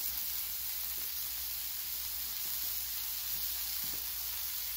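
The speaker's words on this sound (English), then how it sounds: "I wanted it to get plenty hot because that's a lot of meat over there cooking" Pork butt steaks sizzle loudly and steadily on a hot Blackstone griddle, a dense continuous frying hiss with faint crackles and no talking.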